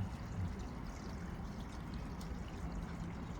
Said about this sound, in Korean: 폭포 가동 시간이 끝나가지고 이렇게 졸졸졸졸 흐르는데